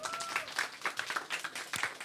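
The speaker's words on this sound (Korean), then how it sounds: "예, 박수해 주세요" Congregation clapping in a church after a baptism, a short burst of scattered hand claps at moderate level, with a voice briefly audible underneath.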